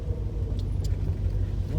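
Steady low engine rumble from a 1976 Ford Mustang II idling or driving slowly along a wooded road, continuous and close, with a couple of faint higher clicks and no talking.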